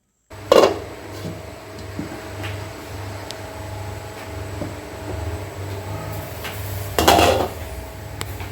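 A cooking pot of Kerala curry, with water just added before mackerel goes in, is covered with its lid: two distinct metallic clanks several seconds apart over a low, steady kitchen hum.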